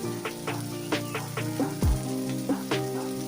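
Curry leaves drop into hot oil over softened onions in a pan for a Telugu moong vadiyalu curry, giving a steady close sizzle with crackling bursts and a brief stirring clatter.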